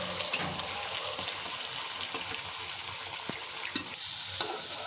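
Sabudana vada frying one by one in hot oil, a soft, steady bubbling sizzle with a few sharper pops and spatters, moderately quiet and unbroken throughout.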